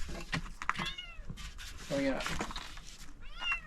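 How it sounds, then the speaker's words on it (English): A cat meows repeatedly beside someone repotting tomatoes in a garden, rising drawn-out cries breaking in between and over a person talking nearby. "The cat's my helper here today."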